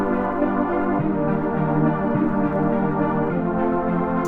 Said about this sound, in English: I've got an arp and then these other 2 synths, which all together sound like this.